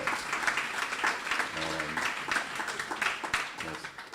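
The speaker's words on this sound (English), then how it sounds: "That's the first round of applause I've gotten this whole thing." An audience at a small business support info session breaking into applause, a moderate patter of clapping throughout with a voice speaking over it midway.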